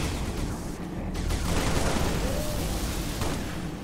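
Rapid gunfire in Halo Reach, a dense, sustained crackle of shots and impacts filling the scene with no pauses and no voices.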